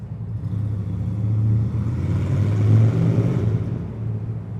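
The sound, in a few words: Honda Shadow 750 Aero motorcycle engine revving loudly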